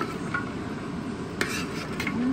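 Menudo, a tripe stew, being poured into a cooking pot gives a continuous wet, bubbling wash of liquid with faint clinks against the pot, steady and close.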